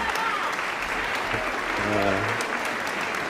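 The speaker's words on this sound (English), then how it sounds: "all I have is a clap" Applause from a small group, steady clapping with a low tonal hum or voice murmuring underneath partway through, moderately loud and continuous.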